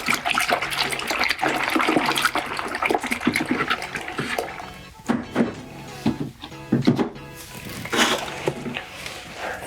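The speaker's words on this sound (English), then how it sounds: "I use my tongs just to stir up that soap a little bit" Tongs stir soapy water in a container for cleaning Lake Superior agate stones. Sloshing, swirling splashes come close up, busy at first, then in sparser churning bursts.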